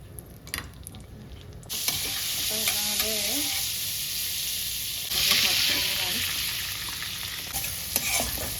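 Butter sizzling in hot oil in a pan at the start of a lemon coriander rice dish, a steady loud frying hiss after a few quiet seconds, with brief stirring clatter and a short voice partly heard under it.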